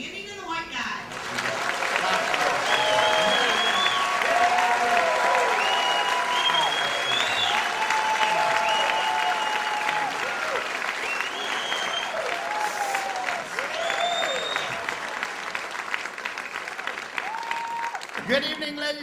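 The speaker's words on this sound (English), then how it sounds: "please give a warm round of applause for Williams and Reed" A casino showroom audience at the Seneca Niagara Casino gives a warm, sustained round of applause for the comedy duo Williams and Ree. Loud, full crowd clapping with cheers and whistles runs for many seconds before a voice begins speaking.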